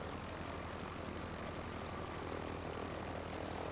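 A video-game fixed-wing aircraft's propeller engine runs at a steady throttle-up drone, a continuous dense hum with a low pulsing beat, with no talk over it.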